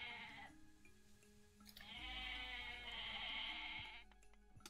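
Goats bleating in the Age of Mythology real-time strategy game, a few drawn-out bleats from game livestock, clear and close, with no talk over them.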